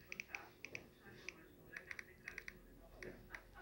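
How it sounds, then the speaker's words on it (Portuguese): Quick irregular clicks of typing on a poor-quality computer keyboard, light sharp taps in small bursts over a faint room hum, with no clear talking. "esse teclado é muito ruim"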